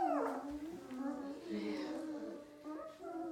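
A sleeping puppy whimpers and yips softly while dreaming, with thin wavering whines rising and falling over a few seconds, close by and fairly quiet.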